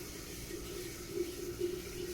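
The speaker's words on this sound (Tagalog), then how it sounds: "So ayan, lagyan natin yan ng tubig." Water pours steadily into a container with a soft gurgling rush that swells slightly near the end, no talking.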